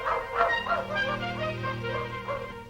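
A cartoon dog gives a run of quick, yappy barks and yips in rapid rhythm, close and moderately loud, with a low musical drone underneath.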